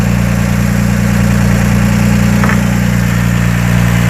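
Porsche 996 Turbo boxer engine running at a steady idle, a loud continuous low drone with an even hum and no change in pitch, heard alone without talk.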